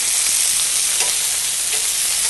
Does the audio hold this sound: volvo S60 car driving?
no